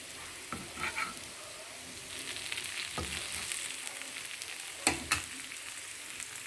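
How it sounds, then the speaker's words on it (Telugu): Marinated pieces of curry frying in a little oil and turned over one by one, with a continuous sizzle and a few sharp clatters as each piece is flipped. "ఇలా ఒక్కొక్కటి రెండు వైపులా తిప్పుకొని కాల్చుకోండి నూనె కూడా ఎక్కువ పట్టదండి"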